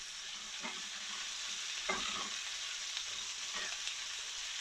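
Octopus, peppers and other vegetables for a Korean spicy stir-fry sizzle steadily in a hot pan. Three distinct stirring scrapes and tosses cut through the close, continuous frying hiss, with no talking.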